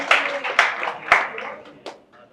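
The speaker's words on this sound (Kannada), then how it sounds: "ಅದೊಂದು ದೊಡ್ಡ ಚಪ್ಪಾಳೆ" Short bursts of classroom clapping, a few sharp claps standing out near the start with quieter clapping trailing off; voices are audible around the claps in the room.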